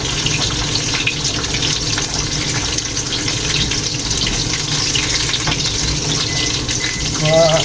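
Onions sizzle in a hot pan, a loud, steady, close frying hiss that runs without a break from start to finish, with no talking over it.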